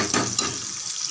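Hot tempering poured into lemon kara thokku, a spicy lemon relish, gives a sharp burst of close sizzling and frying that quickly fades into a softer crackle.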